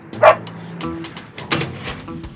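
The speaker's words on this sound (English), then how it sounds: "This one's Duke, the German Shepherd." German Shepherd barking at close range, a few sharp barks spread across a couple of seconds with some background noise between them.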